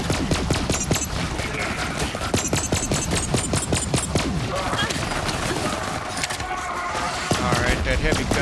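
Heavy gunner enemy in Borderlands 3 firing its machine gun, dense continuous rattling bursts of automatic gunfire mixed with explosions and other combat noise throughout, loud and sustained.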